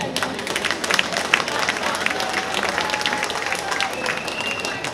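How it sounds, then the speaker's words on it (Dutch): Audience applause fills a hall in a steady, moderately loud wash of many clapping hands, with scattered voices in the crowd underneath. "Mag ik een applaus daarvoor?"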